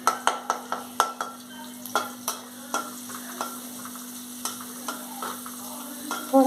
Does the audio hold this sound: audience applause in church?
no